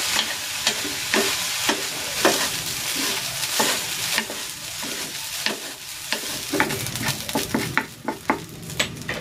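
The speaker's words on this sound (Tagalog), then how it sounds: "maglalagay ako ng soy sauce at ng oyster sauce. Haluin natin ulit." Bacon fried rice is stirred in a hot pan after soy and oyster sauce go in, a steady sizzle under repeated scraping and clinking strokes of the utensil against the pan, close and fairly loud with no talking.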